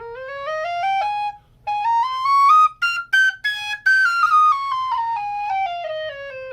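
A tin whistle plays a rising then falling melody, clear and close, with a few short breaks between phrases; the whistle sometimes turns gravelly and fails to sound a clean bottom note.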